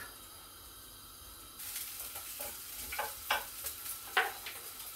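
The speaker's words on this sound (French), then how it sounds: "Je vais ajouter mes légumes, mes épices et je vais faire revenir tout ça." Vegetables and spices sautéing in a pan, a faint sizzle that starts abruptly and carries soft stirring scrapes and small crackles, quiet and close.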